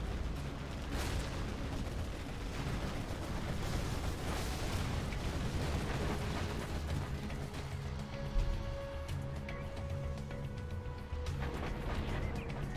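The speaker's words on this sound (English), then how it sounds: "Spectre gunship and Arty being comboed on this HaCkeR center." Dense, continuous rumble of artillery shells and Spectre gunship fire pounding a base in a Command & Conquer match, loud and unbroken, with booms blending into a steady roar and a sharper hit near the end.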